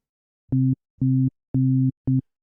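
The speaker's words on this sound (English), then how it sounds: "So now when I let go, we now have our sine wave. Again, it's 130 hertz." A low, pure electronic 130 Hz sine wave tone sounds in four short pulses with silent gaps between them, steady in pitch and fairly loud.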